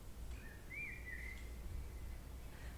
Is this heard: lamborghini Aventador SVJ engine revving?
no